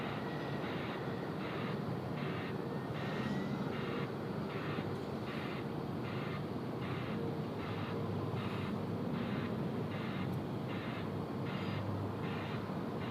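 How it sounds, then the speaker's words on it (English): China Eastern Airbus A350 jet overflying Sydney Airport at altitude, a steady distant broadband engine roar that stays even throughout with no speech. "China Eastern 561 now overflying the field, following relatively close behind that China Southern."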